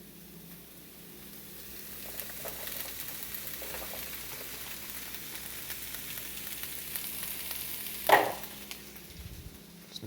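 Cabbage stirred into a pot of frying borscht ingredients, a steady low sizzle with soft scraping and stirring scuffs, and one sharp clatter of a utensil near the end.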